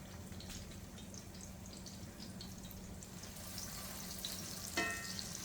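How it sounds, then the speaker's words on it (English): Salmon croquettes fry in a pan, a steady close sizzle running throughout with light crackling and one brief clatter near the end. "You're sizzling."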